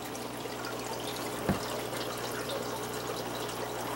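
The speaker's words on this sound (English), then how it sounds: "I'm going to pour all this filtery water stuff into this jug." Filtered aquarium water from a paramecium culture is poured into a jug, giving a quiet, steady trickle with one small splash and no talking.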